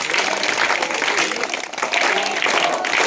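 A group claps together in a burst, dense overlapping hand claps close by filling a few seconds as one steady wash of applause.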